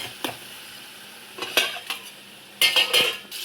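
Sautéed tomatoes are mashed in a pan for a ring-appalam kuzhambu: a few sharp metallic scrapes and clinks of a utensil against the pan, spaced out over a faint background hiss.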